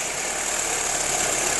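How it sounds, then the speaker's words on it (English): A 2006 Volkswagen Passat engine idles after a repair, with a suspected vacuum leak making the idle rough: a close, steady, dense engine hum throughout, with no start heard and no talking. "Go ahead, Ben, fire it up."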